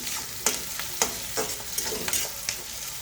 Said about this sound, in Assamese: তেলত মই পিঁয়াজ, তেজপাত, শুকান জলকীয়া, পাঁচফোৰণ দি দিলোঁ। এতিয়া এইখিনি ভাজি থাকিম।